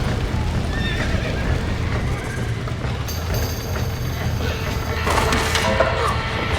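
Horses whinny and hooves clip-clop in a barn scene in the Red Dead Redemption video game, heard over a dense, steady rumble of game ambience, with a sharp high whinny standing out near the end.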